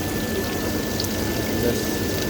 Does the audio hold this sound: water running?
yes